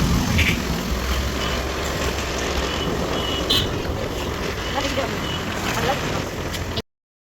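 Motor scooter riding along a road toward a petrol station, continuous engine drone and road and wind noise, loud and close throughout before cutting off abruptly near the end.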